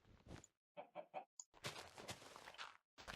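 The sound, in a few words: chicken clucking in Minecraft video game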